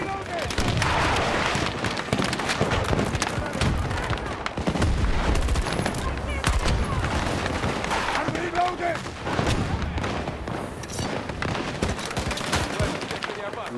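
A shooting video game fills the mix with loud, rapid gunfire: dense automatic bursts and single shots come in close succession with barely a break. A player's voice talks over the shooting at times.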